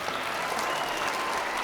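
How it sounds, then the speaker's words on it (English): An audience at a comedy magic show claps steadily, a dense, even wash of applause throughout. "everybody's going to clap for you because you're so brave"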